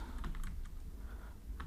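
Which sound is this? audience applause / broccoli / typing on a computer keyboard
typing on a computer keyboard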